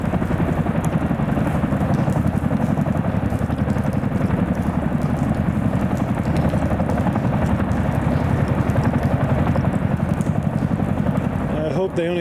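Chinook twin-rotor helicopter running through a pre-flight control test, a loud steady rotor and turbine roar with rapid rhythmic beating throughout, close by and continuous.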